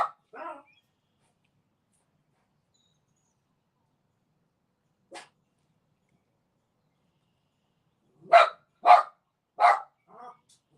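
A dog barks sporadically at moderate distance: a couple of barks at the start, a lone faint yip midway, then a quick burst of three or four barks near the end, with quiet gaps between.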